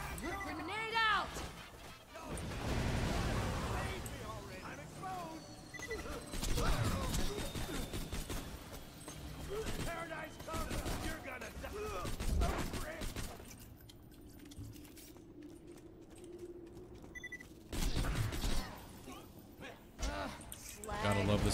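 Video game gunfire and a grenade blast in a Borderlands 2 firefight, with dense, loud bursts of shooting and impacts through much of the clip, then a quieter stretch before more shots, under excited talking.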